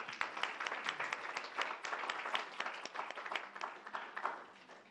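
Scattered hand clapping from a small group at a school district board of education meeting, fairly faint and uneven, lasting a few seconds with no talking.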